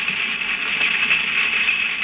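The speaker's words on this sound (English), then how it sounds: "That noise is made by snapping their claws together." A bed of snapping shrimp crackles about 50 feet underwater. Their claws produce a dense, steady fizzing crackle that holds at an even level throughout.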